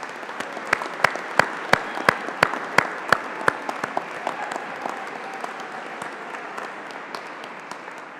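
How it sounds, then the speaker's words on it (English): Graduates applaud their friends and family near the close of a university graduation ceremony in Peterborough, with crowd clapping that starts as a run of sharp, loud claps, swells into sustained applause, then thins toward the end. "return the applause as a note of thanks for everything they've done for you"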